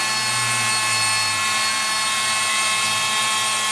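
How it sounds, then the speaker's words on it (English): Milling cutter machining aluminium for a BSA Fury motorcycle part, running without coolant: a steady, loud, high-pitched whine and hiss, continuous throughout with no talk. "these cutters tend to clog up very quickly if you don't have coolant on when you're cutting aluminium"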